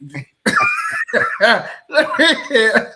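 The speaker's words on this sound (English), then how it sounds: "you got me coughing." A burst of rough coughing mixed with laughter-like breathy sounds, fairly loud and close, several short fits in a row.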